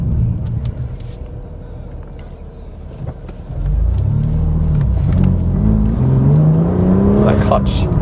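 A remapped BMW M2 Competition with a six-speed manual, CS+ Mega Spec tune, anti-lag and over 520 bhp, its engine droning low and then rising into a louder revving pull partway through, with a voice talking over it.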